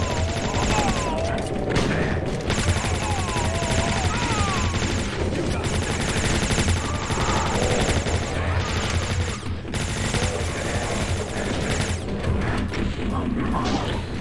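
Dense, continuous gunfire in the video game RAMP 2023, with rapid bursts and crashes, loud throughout, with a voice occasionally audible underneath.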